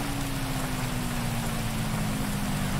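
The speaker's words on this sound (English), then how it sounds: "It's always raining here" Steady, dense rain hiss in GTA V with a low constant hum underneath, unbroken and even throughout, no voices.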